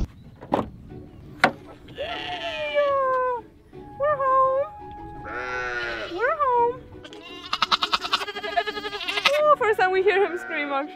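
A goat bleats and screams loudly several times from inside a car during a drive, giving long wavering cries with short gaps, then a quicker run of bleats near the end.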